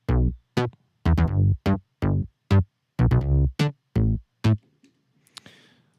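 Layered synth presets, a Juno 106 bass patch stacked with a Spire progressive preset, play a loud, punchy rhythmic pattern of short stabs, about ten hits in under five seconds, then fade to a faint tail.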